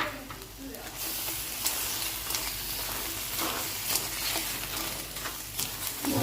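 Shrimp and squid are added to crab in curry powder and stir-fried in a pan, giving a steady sizzle with scraping and clinking from stirring. Someone talks over the cooking.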